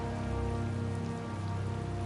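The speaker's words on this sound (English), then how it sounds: "It's raining after all." Steady rain pours in the video game Tales of Vesperia, a dense, even wash of drops that holds for the whole stretch alongside a sustained tonal backdrop, with no one speaking.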